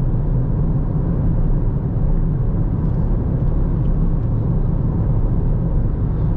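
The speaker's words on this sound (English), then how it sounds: "Braking, downshifting, through the corner, clip the apex, running out wide." A Ford Fiesta drives along a winding road, its engine and tyre rumble forming a steady, loud low drone heard from inside the cabin, without any voices.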